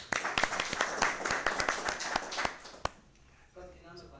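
An audience bursts into loud, dense clapping to welcome a speaker at a book launch event, steady applause lasting about three seconds before fading out, with faint speech afterward.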